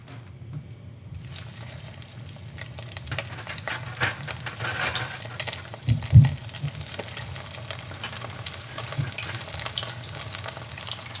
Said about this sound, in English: So when we deep fry for the second time, we're going to let the temperature reach around 375 at least.